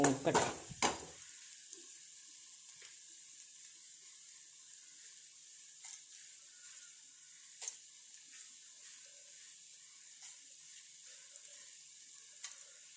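Crushed chillies hit hot oil with a loud, sudden sizzling burst lasting about a second, then settle into faint, sparse crackles and pops in near silence.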